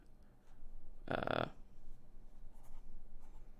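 A pen scratches out a number by hand, one short, brisk stroke burst up close, then faint quieter scratches in a hushed room.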